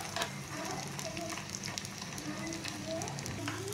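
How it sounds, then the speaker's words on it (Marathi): Edible gum frying in hot ghee in a wok, giving a steady, close sizzle and crackle throughout with faint scraping, no talk over it. "आता हे हा डिंक आहे, हा मी कढईत तूप गरम केलेला आहे, त्यात तळून घेऊ"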